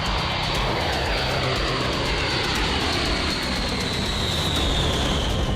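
A B-52 bomber's aircraft engines give a loud, steady, close roar with a broad hiss and a faint whine that slowly drifts in pitch. The sound holds unbroken throughout with no talking.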